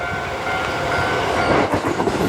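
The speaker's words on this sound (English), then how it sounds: "And airports, oh yeah, look at that train." A train glides past inside an airport terminal, a steady close rumble with faint rhythmic clacking of wheels that swells slightly toward the end, with no talking over it.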